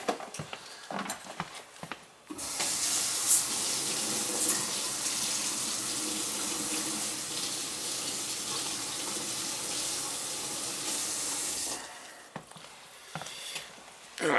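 A hot part from a commercial dishwasher replacement is cooled under a running tap, giving a steady loud rush of water for about ten seconds, bracketed by softer clinks and handling noises.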